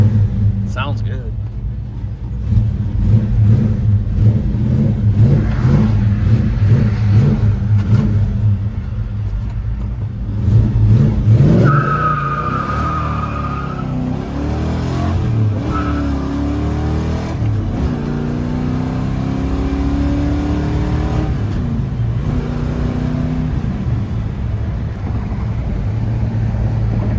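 A 1970 Chevelle with a 454 big-block V8 and five-speed manual rumbles loudly while driving, with steady low engine drone and rising revs through gear changes, heard up close.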